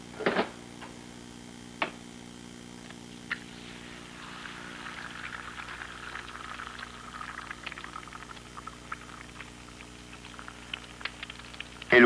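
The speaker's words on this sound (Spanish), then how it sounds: "El huevo se fríe rápidamente" An egg fries in motor oil on an electric coil stove, giving a quiet, steady sizzle with occasional sharp ticks and pops throughout, with no voices.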